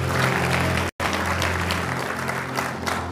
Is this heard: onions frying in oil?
no